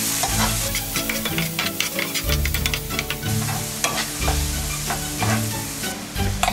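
Diced Spanish onion sizzling in a hot pan, a loud continuous fry with stirring scrapes, under background music.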